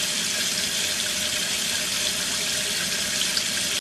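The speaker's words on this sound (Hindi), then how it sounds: "दोनों हाथों को साफ पानी से धोना चाहिए।" Water runs steadily from a tap as hands are washed beneath it, a constant close, full splashing hiss with no voices.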